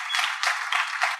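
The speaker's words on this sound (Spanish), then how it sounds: "¿Alguien le puede dar un aplauso al Señor bien fuerte si está recibiendo algo en este día?" Congregation in a church clapping together in steady rhythmic bursts, a full room of hands beating in time, loud and close with no voices over it.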